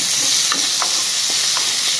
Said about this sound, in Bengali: এবার এই আলু ভাজা তেলের মধ্যে আমি জিরে দিয়ে দিয়েছি